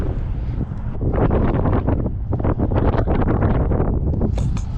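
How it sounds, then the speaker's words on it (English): Strong wind buffeting the microphone while kayak fishing on cold water, a loud continuous rumbling roar with gusty surges and no voices. "it's getting windy"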